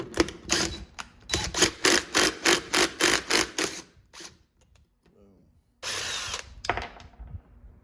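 A rusty flywheel's 27 mm bolt is spun off by an impact wrench in loud rapid hammering bursts, a rattling run of about ten pulses, a pause with faint handling noise, then one more short hard burst.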